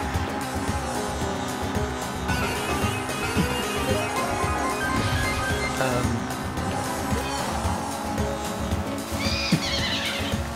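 A horse neighs in a Mario Kart 8 Deluxe video game amid dense game music and sound effects, a whinny rising near the end over the steady mix.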